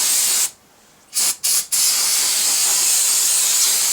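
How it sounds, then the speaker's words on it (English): Aerosol brake parts cleaner sprayed onto the front wheel hub of a 1999-2001 Volvo S60, a loud, close, continuous hiss broken by a few short pauses. "brake parts cleaner here, so we're just going to go ahead and use that"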